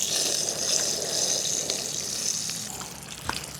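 Wind and light drizzle sweep over a lakeside campsite at Lumot Lake in Cavinti, Laguna, a continuous soft hiss with gentle gusting and a few faint close taps.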